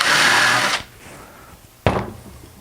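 A power drill driving a screw into a wooden trellis whirs steadily for under a second, stops, then gives a second short, sharp burst of drilling.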